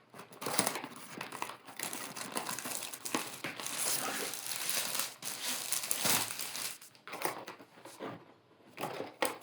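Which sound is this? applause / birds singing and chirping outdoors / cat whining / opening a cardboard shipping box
opening a cardboard shipping box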